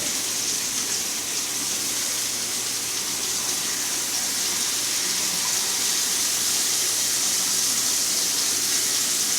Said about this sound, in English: I'm going to wash my hands real quick.